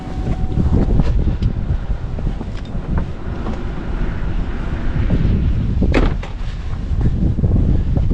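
Blustery wind on a hilltop after winter storms near Williamson, West Virginia, a loud continuous rumbling roar with gusty buffeting against the microphone and a few sharper thumps, steady throughout with no voices.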